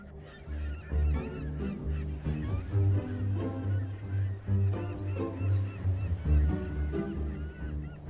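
A large breeding pelican colony on inland lakes makes a dense, continuous chorus of low honking and grunting calls. Many birds call at once, close and loud, with no pauses.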